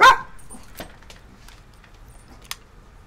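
A dog gives one sharp bark at the start, then a few faint scuffs and a brief click follow in a quiet room.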